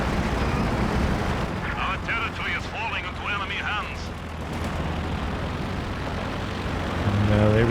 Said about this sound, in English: Stuka coming down, not hitting too much. Here comes another anti-tank